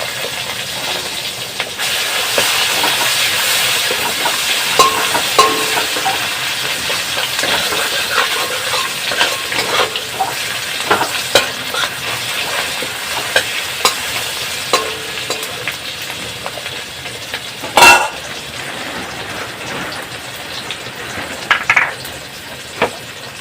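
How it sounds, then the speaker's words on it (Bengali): Salt, turmeric, tomato and chopped onion fry in a hot pan for a Bengali dish with taro and potato, giving a steady, close sizzle with scattered stirring scrapes and a few sharp clanks throughout. "লবণ দিয়ে দিলাম, টমেটো ছেড়ে দিলাম, পেঁয়াজ কুচি ছেড়ে দিলাম"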